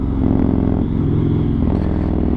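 First-series Yamaha MT-01 motorcycle with an Akrapovic exhaust under way, its big engine throbbing in a loud, deep, continuous rumble with slight rises and falls in revs, heard close.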